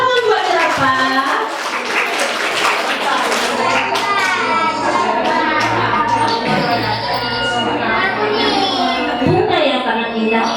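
Children's clapping at a school group performance after a giraffe act, steady scattered handclaps throughout with kids' voices and chatter mixed in.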